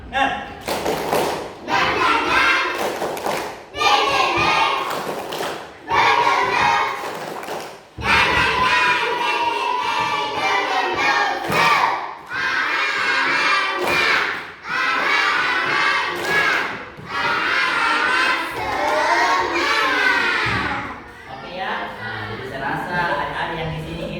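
A classroom of students performs a patterned clapping chant in bursts of rhythmic claps and group shouting, with pauses between phrases and loud collective voices.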